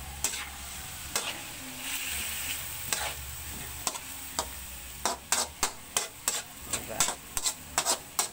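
A spatula stirs salted, peppered fish frying in a pan, a continuous oily sizzle overlaid by scraping strokes that turn into a quick run of sharp, rhythmic stirring clicks toward the end.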